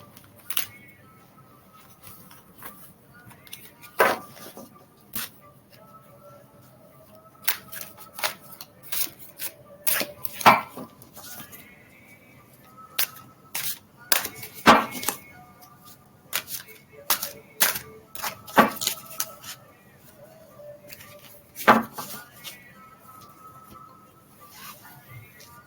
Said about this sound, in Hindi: आपके लिए मैं कार्ड्स पुल करती हूँ